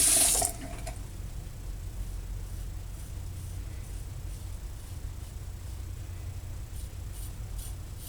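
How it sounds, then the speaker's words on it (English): Running tap water rinsing a single-edge razor during a shave, a steady hiss of flowing water that follows a brief louder splash at the start and continues evenly throughout. "you gotta rinse it off a little bit more frequently"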